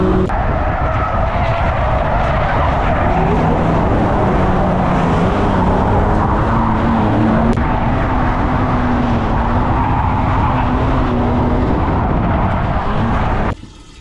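A V8 drift car at a drifting event roars loudly and continuously close by, its engine droning with shifting pitch while tyres skid and squeal, before the sound cuts off sharply at the end.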